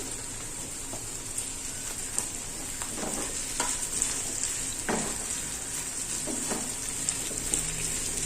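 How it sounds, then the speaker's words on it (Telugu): Chopped tomatoes sizzle steadily in a hot pan for mint chutney, with a spoon stirring through them in soft scraping strokes over the constant frying hiss. "టమాటో వేసేసుకున్న తర్వాత ఒకసారి ఇలా కలిపేసుకొని"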